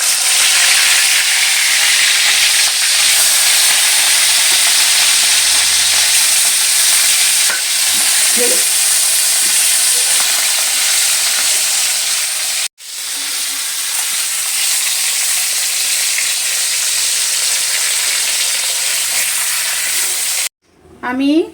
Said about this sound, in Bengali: মাছটাকে ভেজে নেব কড়াইতে সরষের তেল দিয়ে